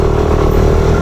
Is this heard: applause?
no